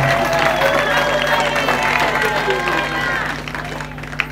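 An audience applauds professors at a ceremony in Bandundu, Democratic Republic of the Congo: sustained clapping mixed with cheers and crowd voices, tapering off toward the end.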